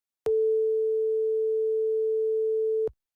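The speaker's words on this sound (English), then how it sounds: "So right here we have a sine wave." A pure sine wave test tone sounds alone at a single steady pitch for about two and a half seconds, starting and stopping abruptly with clicks at each edge.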